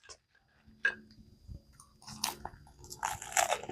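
Someone biting into a homemade burger and chewing, with a few close crunchy bites followed by soft, wet chewing noises in a quiet room.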